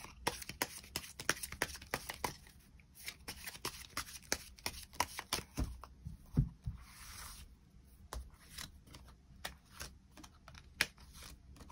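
Tarot cards are shuffled and handled in rapid bursts of soft flicks and snaps, quiet and close, with irregular rhythm and occasional pauses.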